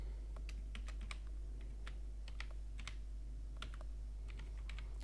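Clicky computer keyboard keys are tapped in quick irregular bursts as a website name is typed, close and clear over a low steady electrical hum.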